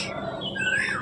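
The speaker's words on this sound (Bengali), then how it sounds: "পাখির ডাক তো শুনতেই পাচ্ছ" Small birds chirping and calling outside a village house, a rising tweet over a soft ambient wash, moderately distant and gentle, with no talk.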